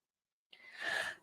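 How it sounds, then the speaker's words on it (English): A woman bursts through a door, heaving and panting, giving one sharp breathy gasp followed by a longer, louder rushing exhale, close and alone. "heaving and panting"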